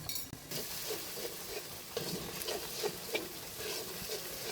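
Spice paste for a fish curry cooks in a pan with a soft, low sizzle, broken by a few scattered stirring clicks and light scrapes, heard close and alone.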